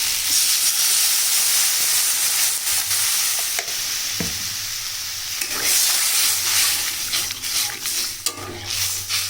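Spice and tomato curry frying and simmering in a pan after water is added, a steady close sizzle and hiss running throughout with occasional stirring scrapes, for a home-style jackfruit-seed lentil and hilsa dish.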